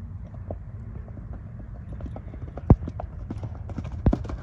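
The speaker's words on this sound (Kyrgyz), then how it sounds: "Эми бир узатып чабып коелу, э?" A trained horse gallops hard without a whip, its hooves pounding in a quick, steady clip-clop rhythm, with two sharp louder strikes near the end. Wind and faint voices sit underneath.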